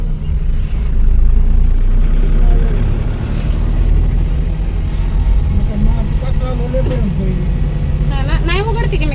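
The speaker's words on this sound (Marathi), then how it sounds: "काय गाडी बी मरणाचा आवाज यायला लागलाय." A car's engine makes a loud, heavy noise: a strong steady low rumble runs the whole time, and a voice talks over it.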